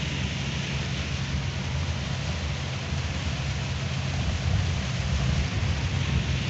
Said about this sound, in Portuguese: Chuva frontal.